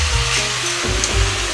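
Lentils fry in hot oil with a dense, loud hiss over a low steady hum, lasting only a moment without any voices.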